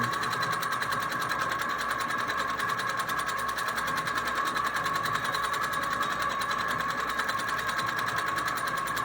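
A sewing machine stitching a quilt runs continuously with a fast, even mechanical whir and rattle, close and steady from start to finish.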